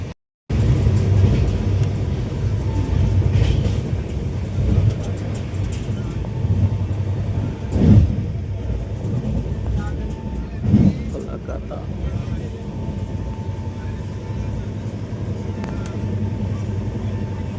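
Steady low rumble of an NFR North East Express train moving past Falakata railway station, continuous throughout, with occasional louder clunks and rattles riding over the constant rolling noise.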